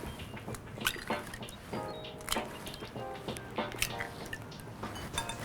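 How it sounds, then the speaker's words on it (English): Eggs cracked one after another into a bowl, sharp shell taps followed by soft wet plops and drips, close and quiet over a faint kitchen hum. "So we're cracking 12 eggs into the bowl."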